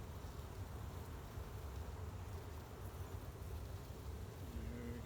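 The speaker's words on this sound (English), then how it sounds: "bees are getting a little bit buzzy" Honey bees buzzing around an open hive during an inspection, a steady, dense drone close by with no voices.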